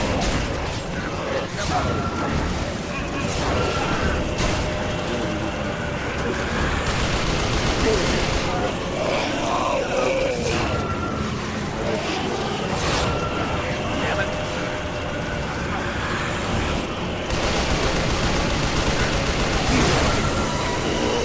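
Gunfire in the Shadows of the Damned action game, bursts of shots rattling through a busy, continuous din as someone talks over the action.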